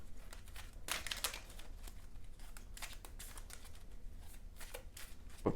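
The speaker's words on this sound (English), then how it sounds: "let's get this deck shuffled up" A deck of Marvel Champions cards is shuffled, with soft, close riffling and crinkly flutters repeating in irregular bursts. The sound is fairly quiet, with no talking.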